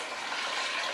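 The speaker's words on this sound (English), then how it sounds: "I'm going to add 12 cups of water." Water pours in a steady, splashing stream into a pot of vinegar and salt brine for dill pickles, a close, bright rush with no talking.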